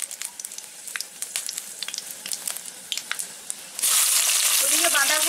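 Cabbage stir-fried in a dry pan: scattered crackles and pops build into a loud, steady sizzle for the last second and a half.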